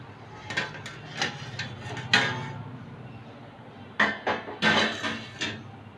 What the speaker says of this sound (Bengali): পাঁচ মিনিট পরে ঢাকনাটা তুলে নিচ্ছি।